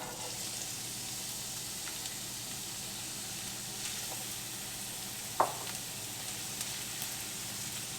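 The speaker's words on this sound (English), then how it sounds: "All right, first we're going to add the onion." Chopped onion frying in melted oil in a pan for aloo gobi, giving a steady, even sizzle and hiss with one brief clack of a utensil partway through, close and without talk.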